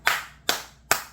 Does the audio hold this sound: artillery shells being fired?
no